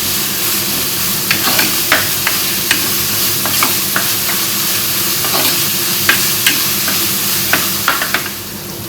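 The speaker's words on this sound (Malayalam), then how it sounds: "ആ സവാളയും ഇഞ്ചിയും കൂടി ഇട്ട് കൊടുത്തേ. നല്ലതുപോലെ വഴറ്റിയെടുക്കണേ." Chopped onion and ginger sauté in a hot pan for a fish curry, with a constant loud sizzle broken by repeated sharp scraping stir strokes.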